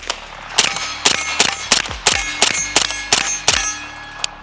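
A Springfield Kuna pistol fires about eight quick shots at a steady pace, each a sharp crack with a metallic ring, loud and close with no talking.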